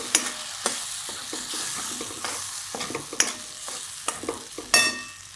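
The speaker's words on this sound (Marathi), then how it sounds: "मिक्स केलेलं ओल्या डाळीचं ते ओतून घेते चांगला हलवून घेते" Soaked chana dal batter being stirred in a hot pan, with scattered scraping strokes and occasional sharper knocks over a continuous soft sizzle, heard close with no voices.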